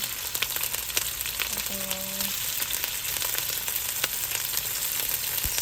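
Pork slices frying in oil in a pan for Chinese broccoli and pork, a dense steady sizzle with crackling pops throughout, close and continuous, with a brief tonal beep midway.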